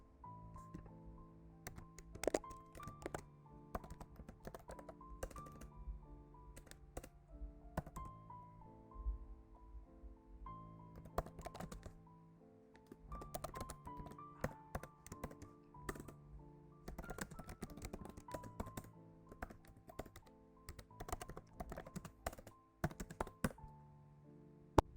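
Someone types C program code on a computer keyboard: a quiet, steady stream of light key clicks with small pauses and occasional heavier keystrokes, close up and alone.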